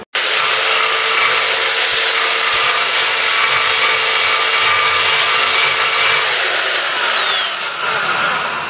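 An angle grinder grinds down welds on the body of a Mk3 Ford Cortina under restoration, a loud, continuous, steady whine held for the whole stretch without any talk.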